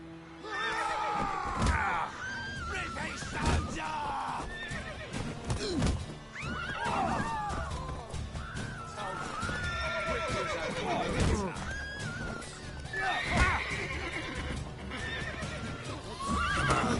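Horses in a PS4 video game whinny and neigh repeatedly, shrill calls rising and falling over clip-clopping hooves and occasional thuds, with a voice talking in between.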